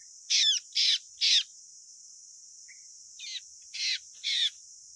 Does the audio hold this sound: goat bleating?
no